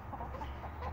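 A rooster among a small flock of backyard chickens gives soft, low clucks that sit faintly over steady background noise, with no voices.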